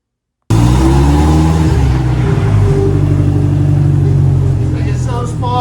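Engine of an A-arm Baja Bug car starting after a moment of silence, then running loud and close with a rough, throaty rumble and revs that rise and settle.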